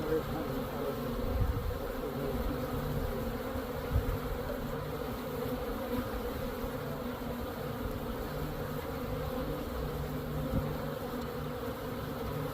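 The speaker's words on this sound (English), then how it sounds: "There's a good number of bees." A dense, continuous buzzing of many honey bees during a hive install, steady and fairly close, with no voices.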